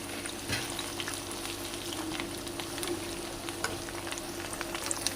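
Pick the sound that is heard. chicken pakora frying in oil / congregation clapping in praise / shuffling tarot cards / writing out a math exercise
chicken pakora frying in oil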